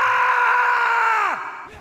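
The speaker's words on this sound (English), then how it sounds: "Did you hear that scream?" A loud, sustained anguished scream from a video game, replayed at boosted volume, holds steady and then drops sharply in pitch at the end.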